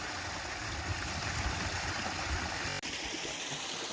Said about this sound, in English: Hope you can hear me because the waterfall's pretty loud.